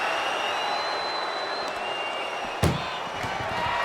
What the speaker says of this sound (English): Shut the door and this match is over.